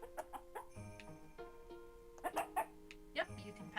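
A chicken in the Fields of Mistria farming game gives short, bright clucks in small clusters over soft, steady game music.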